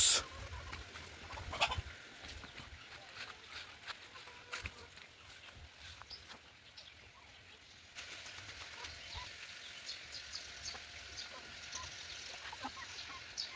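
Chickens on a farm cluck faintly in a quiet setting, with scattered soft clucks and brief wing flaps or scuffles over a low background hum.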